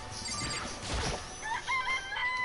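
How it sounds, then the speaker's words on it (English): A chicken clucks and crows in the video game Danganronpa: Trigger Happy Havoc, with a noisy crash early on followed by several short clucking calls in quick succession, moderately loud and with no talking. "It's a chicken, right?"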